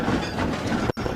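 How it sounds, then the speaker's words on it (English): Roblox train shunting wagons, a loud continuous rumble of rolling stock with clanking wagons, broken by a brief sharp dropout near the end. "The shunting should have been easy, but James was cross and bumped the trucks."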